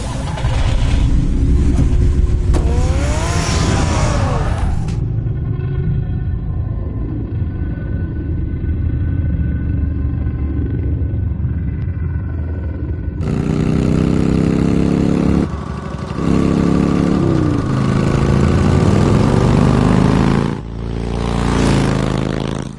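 A car engine in the Batman Telltale video game rumbles loudly at idle, then revs in rising bursts before settling, close and continuous with no voices.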